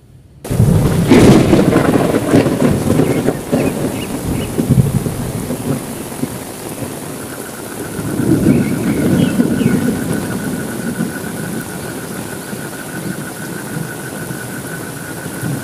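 Steady heavy rain at night with rolling thunder, a loud rumble right at the start and another swell of thunder midway, the downpour hissing continuously throughout.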